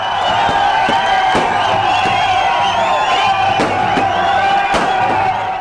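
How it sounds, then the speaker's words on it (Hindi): A crowd chants and cheers in the streets of Srinagar, with sharp firecracker bangs breaking through every second or so, loud and dense. "कश्मीरी नौजवानों ने श्रीनगर की सड़कों पर पटाखे फोड़े और जीवे जीवे पाकिस्तान के नारे लगाए"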